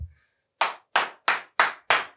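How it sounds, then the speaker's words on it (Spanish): Applause at a church service celebrating God's word: five sharp, evenly spaced bursts of clapping, loud and close, with no talk over them. "darle un gran aplauso a mi papá"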